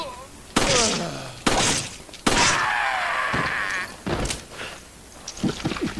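Beretta M9T3 handgun shots in Resident Evil 5, several loud sharp reports spaced about a second apart, each followed by a brief ringing tail, with a creature's cry in between.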